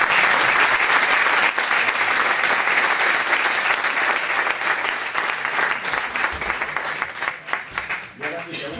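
Audience applause after a talk, a loud, dense wash of clapping that carries steadily for several seconds, thins out and fades away near the end.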